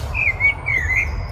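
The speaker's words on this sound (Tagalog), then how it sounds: "Ibon. Magandang ibon." A bird gives two clear, close chirping calls outdoors along a walking route near a highway in Porsgrunn, Norway, over a low steady rumble with no talk.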